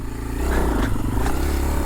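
Kawasaki KLX230R dirt bike revving hard in first gear as the front wheel lifts into a wheelie, a loud close engine roar with rising throttle surges and some rattling clatter, no talking.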